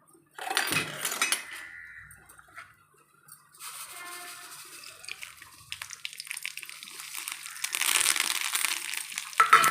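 Mustard seeds and dried chillies crackle and sizzle in hot oil for a Tamil tempering, a sharp burst of spitting near the start, then a steady, rising fizz that grows louder toward the end, with no talk.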